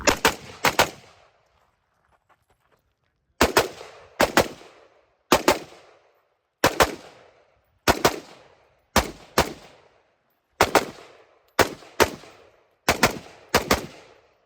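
Rapid bursts of AK rifle fire on a shooting match stage with a factory gas piston, loud and close, in about ten separated strings of two or three quick shots with short pauses between.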